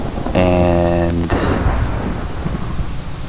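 A Minecraft thunderstorm in an FTB modpack. A loud thunder crack opens into a long rumbling roll with steady rain hiss, and a brief tonal game sound sits over the start.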